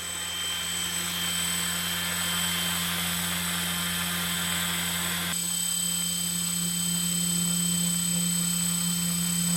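A small RC brushless motor spins at about 5000 RPM on a test bench, making a steady, faint whine over a low hum. The tone shifts partway through.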